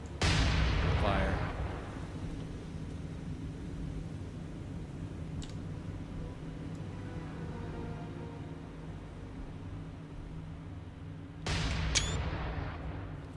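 Deck guns on a World War II PT boat fire in a naval combat video game, heavy booming bursts over a constant engine drone, with a louder volley near the start and another near the end.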